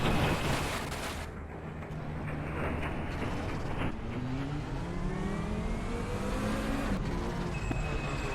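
A race car engine in a racing video game runs steadily on Suzuka East Course during a quick flying qualifying lap, revving and shifting with rising pitch sweeps, loud and continuous with no talk.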